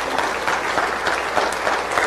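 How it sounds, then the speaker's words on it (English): A church congregation gives a round of applause during a Sunday service, close, full clapping from many hands holding steady for a couple of seconds. "let's give them a round of applause that they stepped up."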